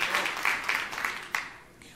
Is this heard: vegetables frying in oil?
no